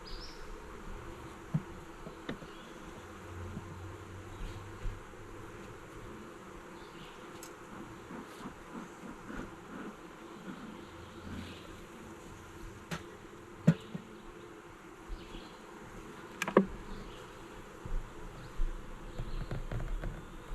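Bees buzz faintly and steadily around a beehive on a treated-timber stand, with scattered soft knocks and clicks over the continuous drone.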